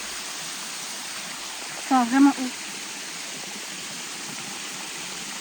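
A waterfall in the Ardèche rushes as a steady, even hiss heard from high up on the falls, with someone speaking briefly over it.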